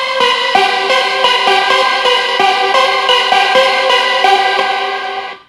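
Pulse synth part from an electronic track in progress, a bright, harmonically rich tone struck in quick repeated rhythmic hits that fades out at the end.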